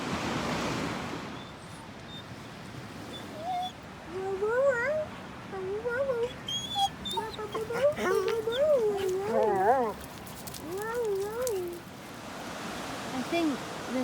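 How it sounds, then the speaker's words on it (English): Dogs give wavering, rising and falling howl-like cries in a loose series that builds and overlaps in the middle, set against a steady broadband wash of background noise. "Oh, here go the dogs."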